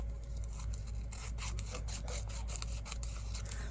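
Paper junk journal pockets are trimmed, giving a quick run of soft rhythmic rasping, scraping strokes close by and fairly quiet.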